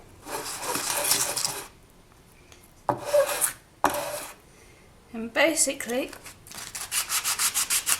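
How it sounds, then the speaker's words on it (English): Repeated rasping strokes of wet-dry sandpaper rubbing a small hard piece of polymer clay, in bursts with pauses, ending in a quick steady back-and-forth rhythm; a voice speaks briefly. "I'm just going to be sanding the top."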